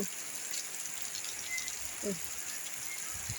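Heavy rain falls steadily, a dense continuous hiss of downpour that stays even throughout, with a faint bird chirp briefly rising above it.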